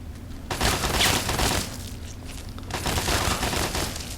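Automated turrets fire at ghouls in the video game Fallout 3, two dense bursts of rapid gunfire with a short lull between them and a faint footstep-like thud.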